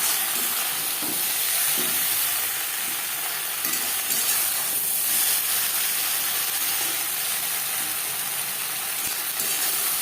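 Potato and eggplant frying in a pan with a little oil and red chili powder, a continuous bright sizzle with soft stirring scrapes, close and steady throughout.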